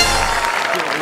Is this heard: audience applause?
yes